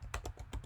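A brief burst of keystrokes on a computer keyboard, several quick clicks in an uneven rhythm, close and fairly quiet.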